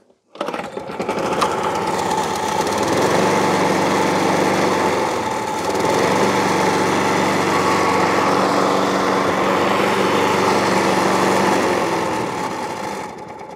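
A Hayter 56 lawn mower engine catches on the pull start and runs steadily, a loud, continuous buzzing drone that holds for over ten seconds before easing slightly at the end.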